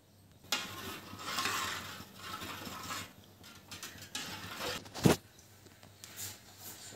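Full-cream homemade milk being stirred in a pan for kalakand sweet: a steady, soft scraping and swishing with faint metallic clinks, and one sharp knock of the spoon against the pan near the end. No one speaks.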